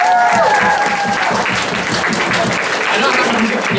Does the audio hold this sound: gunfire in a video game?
no